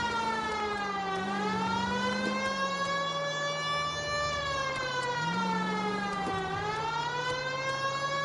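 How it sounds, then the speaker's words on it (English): A loud, continuous police car siren in the video game L.A. Noire wails steadily, its pitch rising and falling in slow sweeps, sounding synthetic and close with no other sounds. "I forgot I could use the siren."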